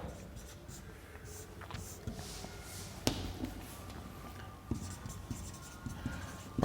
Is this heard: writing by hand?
yes